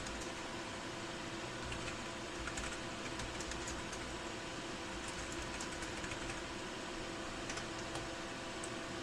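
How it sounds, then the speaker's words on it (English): Steady typing on a computer keyboard at a desk beside a microscope setup, continuous soft clicking alone under a constant low hum, no voices. "so I'm typing"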